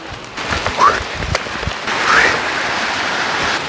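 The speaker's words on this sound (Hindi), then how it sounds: "बारिश लग गई अभी भयंकर वाली।" Heavy rain pours down in a mountain setting, a dense, steady hiss of drops hitting surfaces, with brief voice sounds now and then.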